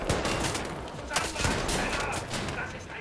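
Dense enemy gunfire in the shooter Wolfenstein: The New Order, a steady crackling fusillade with a few sharper shots standing out, continuous over the whole moment.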